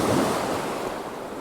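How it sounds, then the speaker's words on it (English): Surf breaking on a dark shoreline at night with wind blowing across the microphone, a steady broadband wash of waves and gusts, fairly close and continuous, with no voices. "you can enjoy the sound of the waves, the wind, the rain"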